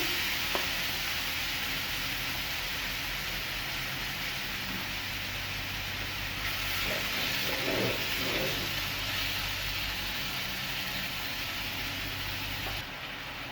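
Marinated chicken tikka, already coated in oil, sizzles steadily in a pan with no extra oil added, a dense continuous hiss with a few brief stirring clatters and bubbling spurts.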